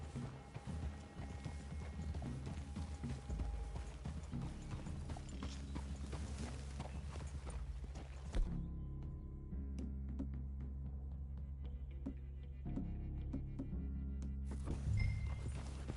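Horse hooves clip-clop steadily across ground in the Red Dead Redemption 2 video game, a quiet rhythmic trot with faint tack and gear rattles, fading softer midway.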